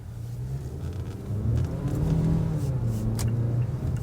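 A Mazda CX-5 engine hums and builds while driving on salty winter roads, a steady low rumble that rises midway with road noise, heard from inside the cabin.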